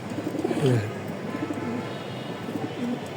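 Racing pigeons coo softly in a loft, a few low rolling calls rising over steady background noise, with faint voices nearby.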